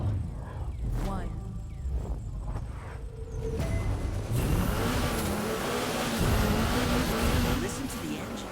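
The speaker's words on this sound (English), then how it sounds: "Listen to the engine." A KTM X-Bow sports car engine in the racing game The Crew 2 revs and accelerates, a rising motor drone building steadily and loudly through the clip, with a person talking over the start.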